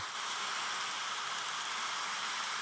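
Steady rain played back through a phone speaker, a dense even hiss of falling water that holds constant and fairly loud with no breaks.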